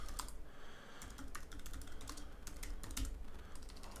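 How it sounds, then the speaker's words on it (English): Quick, uneven clicking of fingers on a computer keyboard during network configuration work. The keystrokes are close and fairly quiet, forming a continuous stream of taps without speech. "If I could type."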